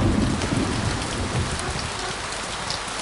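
Steady heavy rain pours down outdoors in a Chinese town, a dense broadband hiss of drops on surfaces, loud and continuous with no voices.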